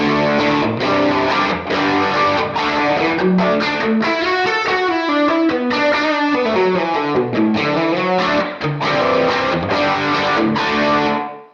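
Distorted electric guitar through an amp modeler with a raised room mix plays chords and melodic lines with a roomy, ambient sound, continuous and loud, with no voices.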